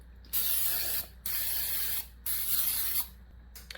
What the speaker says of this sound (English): Now I'm going to spray this really good.